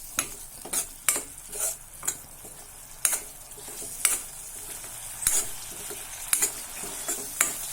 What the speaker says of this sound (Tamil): இது நல்லா கொஞ்சம் வதங்கட்டும்